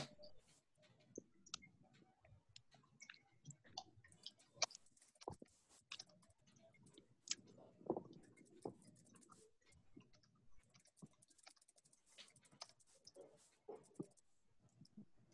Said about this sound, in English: Hear some people typing.